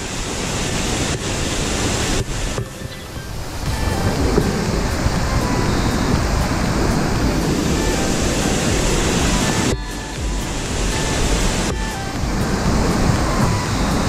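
A powerful, steady roar of rushing, crashing water fills the air, loud and close, with brief dips in the noise.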